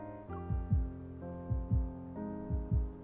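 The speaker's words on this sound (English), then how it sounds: "The sound of my heartbeat is amplified in my ears." A heartbeat sound effect in the video game Love and Deepspace thumps in low double beats, three pairs evenly spaced, over a sustained tonal music bed, with no voices.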